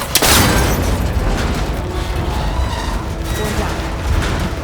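A shot strikes and breaks a cable connector on a tower in Horizon Forbidden West, opening with a sharp loud burst, then a sustained rumbling, mechanical roar that fades slightly over several seconds.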